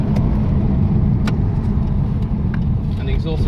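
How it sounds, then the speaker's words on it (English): Ford ED Falcon turbo engine running loud with exhaust dumping straight out of a leaking wastegate, a steady dense rumble that stays close and constant throughout, with a voice talking over it. "the exhaust is straight out of this fucking wastegate, so it's loud"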